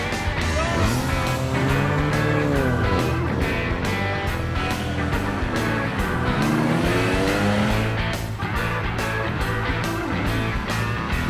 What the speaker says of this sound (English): Amanda Johnson and Karen Turner put the Aston Martin DB2 through its paces